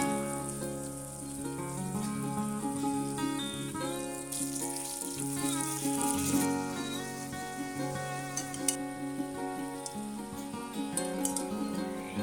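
Fried potatoes and chopped tomato sizzle in a pan for a Bengali mutton curry, a soft, continuous crackle with brief splashy bursts. Background music plays quietly over the frying throughout.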